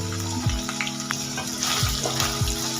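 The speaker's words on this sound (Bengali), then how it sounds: "পনিরগুলো ভাজা হয়ে গেছে" Paneer frying in oil in a pan, a close bubbling sizzle broken by a few short scraping strokes, with no talk.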